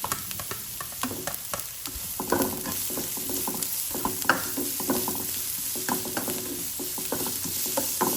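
Onion sautés in oil in a pan for low-carb bopis, with a bright, continuous sizzle and a quick run of rhythmic scraping and clicking from stirring. Nobody speaks.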